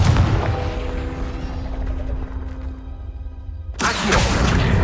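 A Confringo fire spell bursts in Hogwarts Legacy, a loud booming blast over a dense rumbling roar, followed by a sudden sharp eruption of crackling noise near the end.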